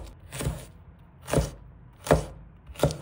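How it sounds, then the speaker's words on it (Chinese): Peeled ginger chopped into small bits with a knife on a board: four sharp, separate thuds spaced roughly evenly, close and clear with quiet gaps between, no voices. "切成小粒，"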